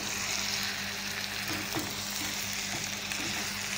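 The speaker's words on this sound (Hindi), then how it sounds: "अच्छी तरह इसको मिक्स कर लेंगे।" Tomato curry with spices sizzles steadily in a pan while being stirred, a continuous close frying hiss with soft scrapes of the spoon mixed in.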